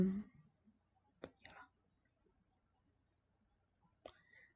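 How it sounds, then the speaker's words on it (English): A few soft hiccups, quiet and close, spaced apart with near silence between them, coming from a person during a flosstube cross-stitch session. "Excuse me, now I have the hiccups."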